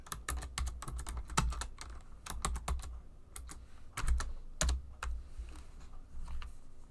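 Typing on a computer keyboard, close and fairly quiet, with quick irregular bursts of key clicks and short pauses between them.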